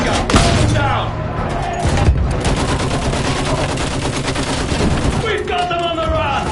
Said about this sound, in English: Use that machine gun! Put them down!